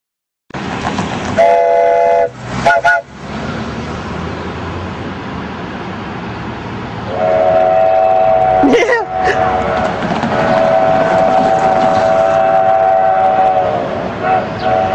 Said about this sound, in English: The train should be coming in pretty soon.